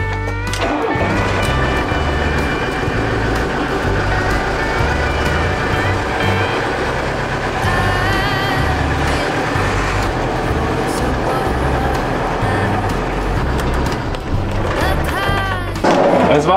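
A converted camper van with insulation fitted is driven out, its steady engine hum and road rumble running loud and continuous throughout, with voices talking over it.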